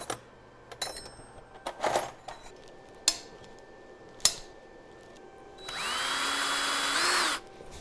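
A power drill bores a hole in a metal bar: scattered clanks and taps of metal parts, then a loud, close, sustained drilling whine lasting under two seconds that winds down at the end.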